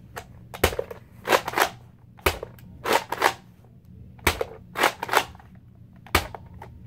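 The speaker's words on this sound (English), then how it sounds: "And I got this Zombie Strike shotgun" A Nerf Zombie Strike toy shotgun firing, with sharp close snaps and pumping clacks coming in irregular pairs and singles, loud and without speech.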